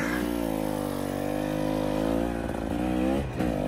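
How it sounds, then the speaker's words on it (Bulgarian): A motorcycle engine runs steadily at close range, a loud continuous droning hum that holds even throughout with a slight dip near the end, no talk. "От мотор на мотор."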